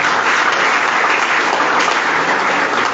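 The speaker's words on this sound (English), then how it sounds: "Can we give her a round of applause?" A steady, loud wash of audience applause fills a peace conference hall, dense and continuous throughout with no pauses.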